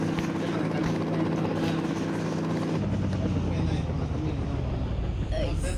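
A helicopter in the video game Indian Bike Driving 3D flies and comes in to land, its rotor droning loudly and steadily with a shift in pitch partway through, under a person talking.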